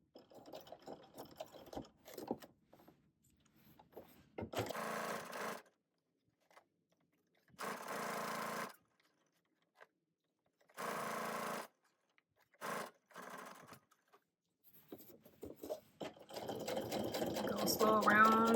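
A sewing machine stitches the seam of a clutch purse in several short whirring runs separated by silences, starting and stopping near at hand, with someone talking between the bursts.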